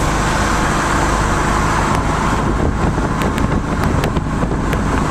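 Loud, steady road roar from inside a 1969 Camaro Z28 Rally Sport cruising at 60 mph in fourth gear around 3,100 RPM, engine and tire noise blending into a constant rumble.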